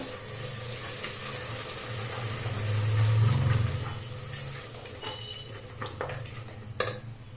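Masala fries in a pan for Udupi hotel-style vegetable pulao, a soft sizzle under clattering stirring against the metal pan that swells mid-clip, close and with no talking.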